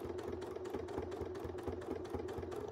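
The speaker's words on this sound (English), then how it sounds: "So let's just go ahead and we'll just start micro tacking now." Quilting sewing machine stitching micro tacks with silk thread through double batting, a steady rapid mechanical rattle of needle strokes with a low motor hum, close and continuous.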